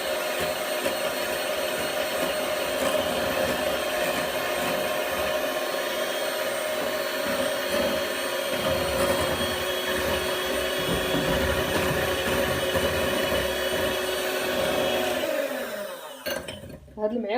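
An electric mixer whipping a cake batter of eggs until pale and fluffy, a loud, close, continuous motor whir that holds steady for about fifteen seconds before cutting off.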